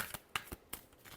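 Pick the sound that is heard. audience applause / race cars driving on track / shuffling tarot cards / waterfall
shuffling tarot cards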